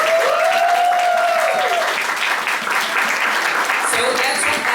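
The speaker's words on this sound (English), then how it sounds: "A round of applause." A large crowd at a drag show in a bar applauds steadily and loudly throughout, with a tonal whistle or voice briefly rising above the clapping.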